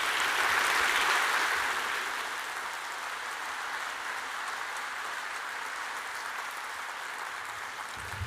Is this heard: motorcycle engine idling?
no